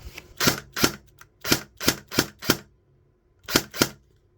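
Nine sharp, snappy shots from an Ares L85 airsoft rifle on automatic: a quick burst of seven, a pause, then two more close together, loud and near with no talking.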